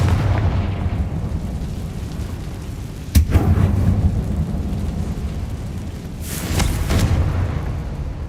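Confringo fire spells exploding in Hogwarts Legacy, two loud cracking blasts a few seconds apart, each with a rolling low rumble, over a steady noisy background.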